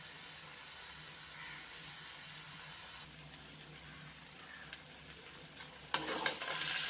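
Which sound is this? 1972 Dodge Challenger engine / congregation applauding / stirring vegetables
stirring vegetables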